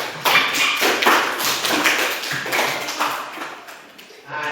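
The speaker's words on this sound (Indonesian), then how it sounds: "Oke, tepuk tangan." Students in a classroom break into applause, a dense, steady clapping that carries on for several seconds at fairly close range before thinning slightly near the end.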